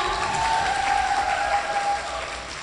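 Applause and scattered cheers from a live show audience after a singer's performance, a loud continuous crowd sound with a sustained tone running through it.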